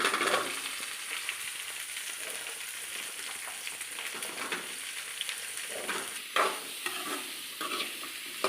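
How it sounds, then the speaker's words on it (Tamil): Pumpkin pieces sautéing in a pan, a continuous close sizzle with scattered stirring scrapes and an occasional sharper clink of the spoon. "பூசணிக்காய் வந்து நல்லா வணங்கிக்கிட்டே இருக்குது"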